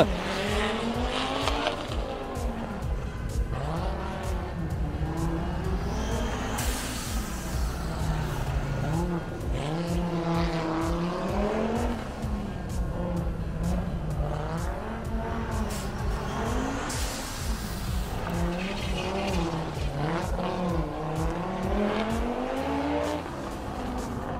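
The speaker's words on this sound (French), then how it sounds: "Ça souffle, comme on dit dans le jargon, avec cette magnifique Audi Quattro de Zippo" An Audi Quattro rally car races through a special stage at the Rallye du Chablais near Champéry. Its engine howls up and down through repeated gear changes, holding loud and close the whole time, with a commentator's voice over it.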